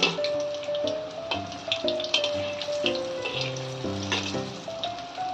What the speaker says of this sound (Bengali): আমি বেশি দেবো না, অল্প অল্প করে 2-3বার করে ভেজে নেব।